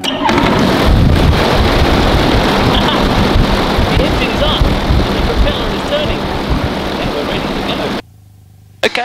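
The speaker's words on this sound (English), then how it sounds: "I'm going to turn the key and turn the engine on." A small airplane engine runs steadily at close range, a dense broadband roar with wind buffeting, continuous for about eight seconds before cutting to near silence.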